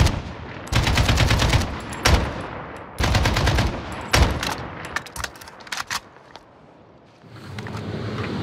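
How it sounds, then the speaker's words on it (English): Gunfire during a protest in Port-au-Prince, Haiti: several sharp, loud bursts of automatic fire in quick succession, echoing outdoors, then trailing into scattered quieter pops before a lull. "we have to wait behind this wall until the shooting stops"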